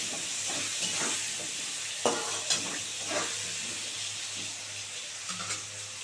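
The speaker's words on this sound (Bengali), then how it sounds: "সুন্দর করে আলুটা লাল করে ভাজা হোক" Potatoes with a little turmeric frying in a pan for a Bengali banana-flower curry, a steady close sizzle broken by a few louder scrapes of stirring, with no talk.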